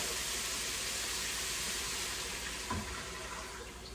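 A quart of water is poured into a hamburger soup pot, heard as a soft, continuous gush of liquid that ends with a small splash near the end, fairly quiet.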